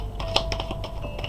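Tarot cards being shuffled for a spiritual reading, giving quick rapid crisp taps and flicks of card stock in an irregular run, close and moderately loud with no voices.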